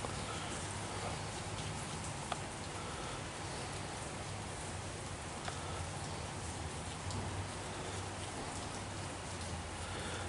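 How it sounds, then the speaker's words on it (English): Steady rain falls on a Friday after a dry summer, a dense, even hiss with scattered louder drops, unbroken for the whole stretch. "we're getting our needed rain on this Friday"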